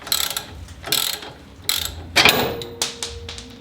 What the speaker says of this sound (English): going to remove this castle nut, which again is a 19mm socket